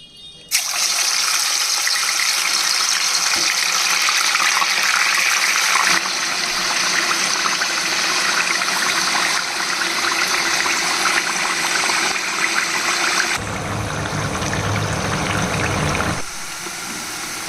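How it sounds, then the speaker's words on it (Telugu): Pieces of korramenu fish dropped into hot oil, a loud continuous hiss and sizzle of frying that runs steadily, then shifts and softens toward the end. "ఇప్పుడు ఈ చేప ముక్కలను తీసుకుని నూనెలో వేసి ఫ్రై చేసుకుందాం."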